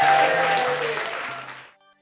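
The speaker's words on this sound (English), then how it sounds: "Big applause, please." Audience applause at the 2013 Minnesota Transracial Film Festival, a dense burst of clapping that fades out over about two seconds, with a faint steady tone underneath.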